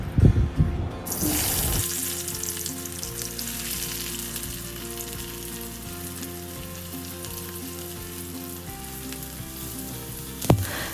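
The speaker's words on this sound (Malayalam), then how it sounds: "ഒരു 2 ടീസ്പൂൺ വെളിച്ചെണ്ണ ഒഴിച്ചിട്ട് ക്രഷ് ചെയ്ത് വെച്ച ഉള്ളിയും വെളുത്തുള്ളിയും പിന്നെ കറിവേപ്പിലയും കൂടെ ഇട്ട് കൊടുക്കുക" Crushed onion, garlic and curry leaves drop into hot coconut oil in a pan for Kerala crab curry, bursting into a loud sizzle that settles into a steady, close frying hiss, with a sharp clatter near the end.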